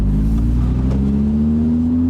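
Naturally aspirated V10 of an Audi R8 Spyder revving loudly and steadily close by, its engine note climbing gradually through a sustained two-second pull with no talking.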